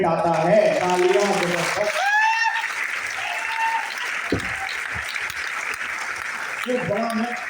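An audience at a business-plan presentation breaks into a burst of applause in the middle, framed by someone talking before and after the clapping.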